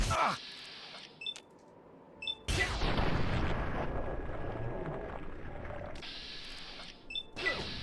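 A .308 rifle fires in Fallout 3, a loud broadband blast at about 2.5 seconds with a long rolling tail, set among game sounds with short electronic beeps at the start and end.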